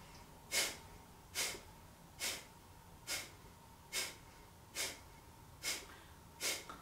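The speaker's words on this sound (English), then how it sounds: "The breath of fire was done or is done on exhale, pulling the muscles of the abdominals inwards." Breath of fire breathing exercise: eight forceful nasal exhales in a steady, even rhythm, each a short sharp puff of air through the nose, close and clear with quiet inhales between.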